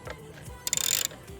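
Ratchet wrench clicking as bolts come off the tail section of a 2025 Honda CBR600RR, a short rapid run of close, crisp clicks lasting under half a second amid quiet garage ambience.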